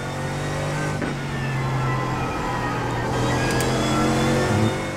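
A race car engine in a racing simulator drones steadily and loudly, holding a sustained tone with slight shifts in pitch, nearly alone with no talk.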